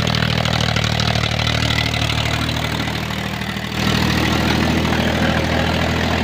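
A Powertrac Euro 50 tractor engine idles steadily and loud, a continuous low diesel rumble with a brief dip in the middle before settling back to a constant throb.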